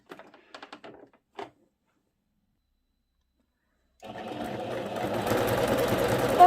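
After a few faint taps and a long silence, a sewing machine starts a dense zigzag satin stitch for appliqué, its fast even whirring hum running steadily and close to the end.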